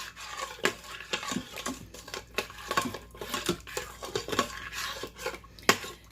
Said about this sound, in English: you want to scrape all those bits off the bottom